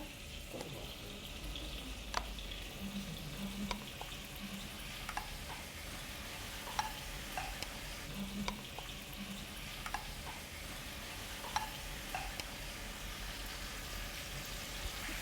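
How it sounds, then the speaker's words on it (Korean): Kimchi being stir-fried in a pot with a spatula while a kimchi stew is cooked: a steady low sizzle under faint scattered scraping clicks and light stirring knocks, close and continuous. "김치도 볶음 주걱으로 밀어내 냄비에 넣어주세요"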